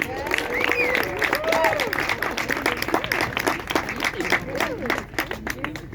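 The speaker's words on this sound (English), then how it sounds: "give a big round of applause for ElisabethV" Audience applause and cheering for a performer at an Athens open mike, steady dense clapping sustained throughout with a voice or two calling out over it.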